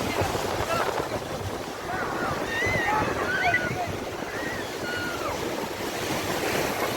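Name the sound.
sea waves at Kovalam beach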